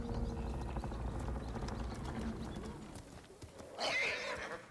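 A horse in the samurai video game Ghost of Tsushima gives a whinny and clip-clopping hooves over game music and ambience, with a sharper neigh rising near the end.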